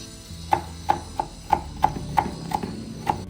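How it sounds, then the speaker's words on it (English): A knife chops onions in a kitchen preparing Mexican marlin tacos, making about eight crisp, evenly spaced knocks on a board over roughly three seconds, close and clear with a faint background hum. "cutting the onions"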